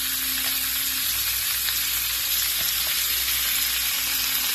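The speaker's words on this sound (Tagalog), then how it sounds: "nilagay po yun natin yung baka na marinated sa toyo, kalamansi at saka konting asin" Beef marinated in soy sauce, calamansi and a little salt frying in a pan after sautéed onion and garlic, giving a loud, steady, close sizzle that runs without a break.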